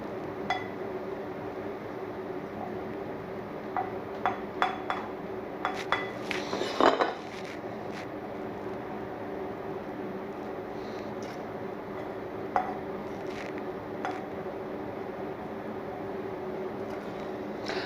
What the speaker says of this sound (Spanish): y ahora voy a emplatar